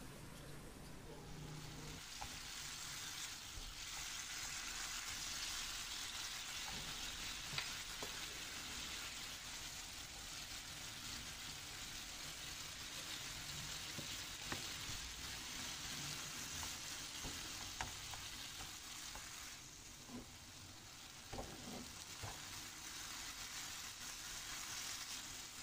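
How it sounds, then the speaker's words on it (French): Ingredients sauté in a hot pan with a lemon or sour juice, giving a steady close sizzle and crackle with occasional stirring clicks, continuous throughout at a soft level. "Je vais les faire revenir quelques instants."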